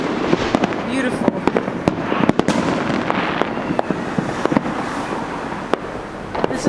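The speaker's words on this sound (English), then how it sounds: "See our fireworks. Just the beginning. There's one big one. And this is all around our neighborhood." Neighborhood Fourth of July fireworks crack and pop repeatedly, some near and sharp, others distant, over a constant noisy outdoor background, with a voice talking over the bangs.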